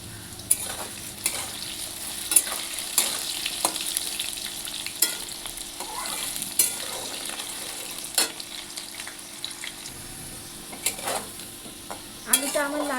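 Potatoes fry in a pan, with a continuous low sizzle broken by frequent sharp clinks and scrapes as a utensil stirs them against the pan. No one speaks.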